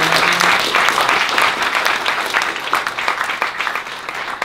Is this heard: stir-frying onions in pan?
no